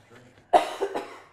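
A single sharp cough bursts out close to the microphone, followed by two smaller coughing catches trailing off into quiet.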